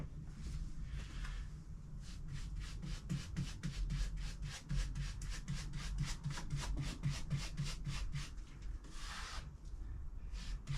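Cement-based grout being spread and pressed into joints by hand, a steady run of close rhythmic rubbing and scraping strokes at an even pace with no talking.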